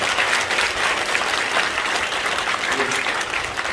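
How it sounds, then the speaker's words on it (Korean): Big round of applause from a church congregation at an anniversary ordination service, thick continuous clapping from a large crowd, loud and close, with voices mixed faintly underneath. "인사하실 때 큰 박수로 축복하도록 하겠습니다"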